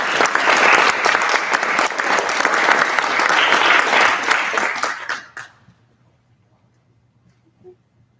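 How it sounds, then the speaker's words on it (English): Audience at an annual speech home show breaks into loud, dense applause that holds steady for about five seconds, then fades quickly to near silence with a faint stray sound at the end. "So let's all give it a round of applause for Mel."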